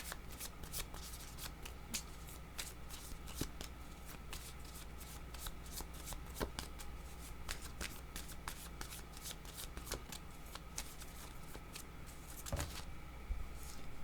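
Tarot cards being shuffled during a card reading, a soft steady riffling and flicking that runs throughout, close and quiet, with occasional sharper card snaps.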